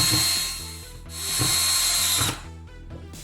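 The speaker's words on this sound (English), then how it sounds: "then secure it with screws." A power drill drives screws through a bottle top heat-shrunk onto a plumbing pipe, giving two loud whirring bursts that each ramp up and end with a short stop between them, close by with no talking.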